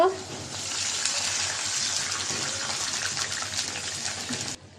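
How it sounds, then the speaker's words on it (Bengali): Water pouring into a hot cooking pan of fried onions for a chicken bhuna, a steady loud gushing rush lasting several seconds before cutting off abruptly. "একটু পানি দিয়ে দিব"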